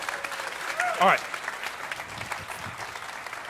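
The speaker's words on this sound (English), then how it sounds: "Would you just give her an applause just so she can hear you?" A church congregation claps in steady, dense applause throughout, while a person speaks briefly over it and a sharp vocal whoop rises in the middle.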